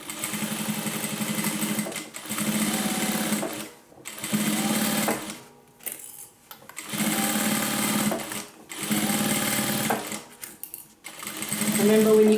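A sewing machine stitches the side seam of a crossbody handbag in several steady bursts separated by short pauses, loud and close, with a voice talking over the machine in places.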